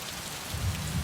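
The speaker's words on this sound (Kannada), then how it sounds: "ಧಾರಾಕಾರವಾಗಿ ಮಳೆ ಸುರಿತಾ ಇದೆ" Heavy monsoon rain pours down steadily over Bengaluru, a dense, even hiss of water drumming on surfaces with a low rumble underneath, continuous with no voices.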